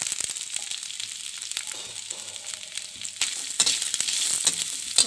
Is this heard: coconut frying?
yes